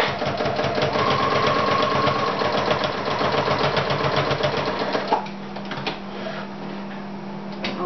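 A sewing machine stitches a hat with a loud, steady, rapid mechanical whir that runs without a break, then drops to a softer, lower hum for the last few seconds.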